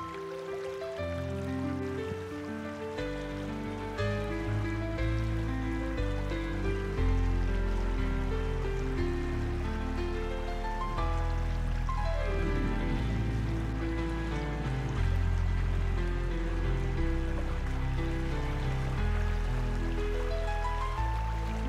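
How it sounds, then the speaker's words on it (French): Richemont brook, a small French trout stream, flowing steadily with a continuous close babble and trickle of water over stones, alone without voices. "nous sommes sur le ruisseau de Richemont à monter"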